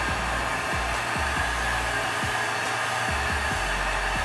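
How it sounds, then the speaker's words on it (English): Hot air gun blowing on PVC pipe being heated for reef tank plumbing, a loud steady close hiss and fan roar with faint periodic knocks underneath, no talking. "make sure don't put this hot air gun on a high heat"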